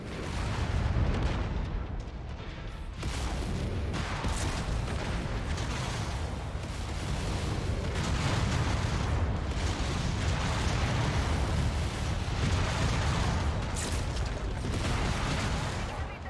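Missile explosions and weapon fire boom in the mech combat game MechWarrior 5: Mercenaries. The blasts form a loud, continuous, dense roar with a voice talking over it.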